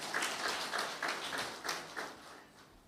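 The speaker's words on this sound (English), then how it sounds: "A hearty round of applause for them." Audience applause at an evening devotional gathering and award ceremony, a steady wash of many hands clapping with rhythmic swells, moderately loud and continuous with no talk over it.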